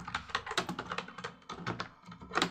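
Quick bursts of key clicks on a computer keyboard while a shop name is typed into a spreadsheet, close and soft with irregular rapid taps and small pauses.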